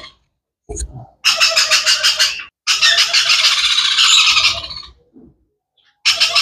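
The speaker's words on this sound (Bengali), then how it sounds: "ব্লু রিংনেক টিয়া পাখি" A blue ringneck parrot gives loud, harsh squawks in several long, rapidly pulsing bursts, close and unaccompanied, separated by brief silences.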